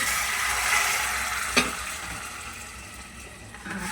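Boiled drumstick pieces and potatoes tipped into a hot pan for Karnataka-style sambar, giving a steady sizzle with stirring and a brief clatter as they land, heard alone without talk.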